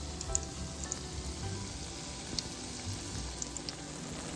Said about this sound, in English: In between, flip and fry the luqaimat until golden color.